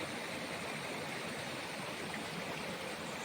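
A stream flows steadily, a continuous broad rushing wash of water with no pauses or voices.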